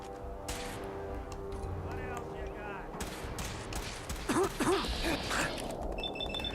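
Gunfire in the video game Fallout 4: several quick shots and mechanical weapon clatter over a busy mix of game sound, with talk-like tones running through it.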